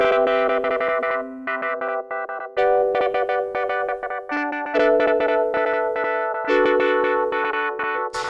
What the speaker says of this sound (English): Next one's a pad. It's called Glitch Pad.